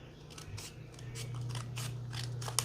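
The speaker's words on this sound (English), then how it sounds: "Actually, let's use the scissors." Several crisp scissor snips cutting paper in an uneven rhythm, close up, over a low steady hum.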